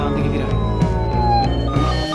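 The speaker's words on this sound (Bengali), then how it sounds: "এই পুলিশের গাড়িটা তোমাদের কাছে কেমন লাগছে" A toy police car gives off an electronic siren, a steady bright warbling tone that carries on without a break and sounds up close, with no other sound over it.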